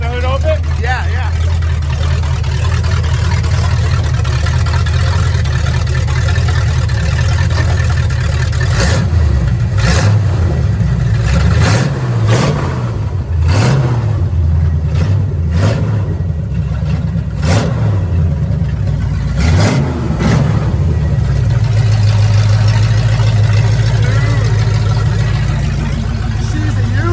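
A truck engine fitted with headers revs repeatedly up close, loud throaty bursts rising and falling over a continuous idle rumble, while people talk nearby.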